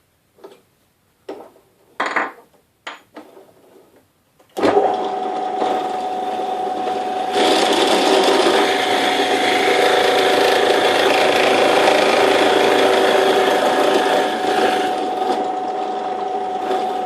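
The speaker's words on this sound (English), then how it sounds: "Drop the drill bit down slightly to get through the last little bit." A drill bit bores through wood on a homemade grinding jig, starting with a few short taps and clicks and then settling into a loud, sustained, gritty grinding roar for about twelve seconds.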